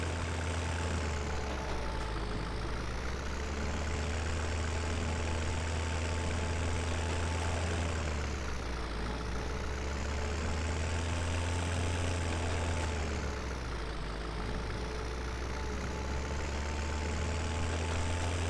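Idling tractor engine in the Farming Simulator 17 game, a steady low diesel drone with a constant hum and slight periodic swells, continuous and fairly close throughout with no talking.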